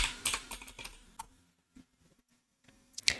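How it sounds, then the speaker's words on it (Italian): Quick bursts of typing on a computer keyboard while entering a Windows login password, close and crisp, then a near-silent pause with a few scattered clicks before a final flurry of keystrokes. "Digito la password"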